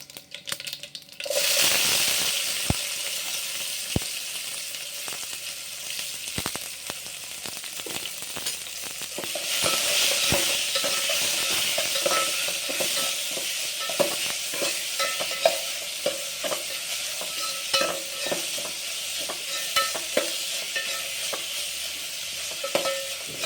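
Crushed small onions (shallots) sizzle in hot oil for a peanut curry, steady frying hiss with repeated scraping and clacking of a spoon stirring the pan, close and continuous.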